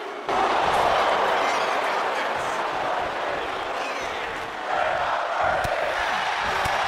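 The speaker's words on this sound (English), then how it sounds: "Truth follows up with the Little Jimmy, and the crowd erupts as he covers Kaiser" A wrestling arena crowd in WWE 2K25 roars in a sustained, loud wash of cheering that swells again near the end, with a few sharp impacts cutting through.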